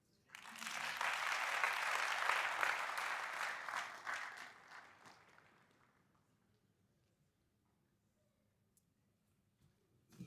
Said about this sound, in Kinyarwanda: When we clap, it's a sign of hope.